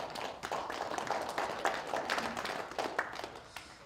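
An audience at a symposium on the Donghak Peasant Revolution gives scattered, fairly quiet applause, a loose patter of claps lasting several seconds in a hall.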